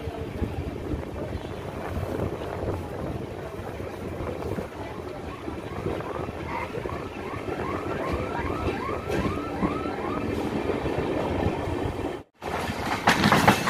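Train running on rails in West Bengal, passing through stations near Payradanga, with a steady rumble and rattle throughout, briefly cut to silence near the end before the noise resumes.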